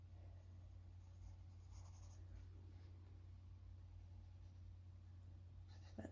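A pencil scratches across paper in short, soft strokes while an outline around a head is drawn, heard close over a low steady hum with no talking.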